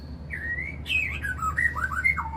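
A white-rumped shama chirps and whistles in short, bright phrases over a steady low hum, close and moderately loud.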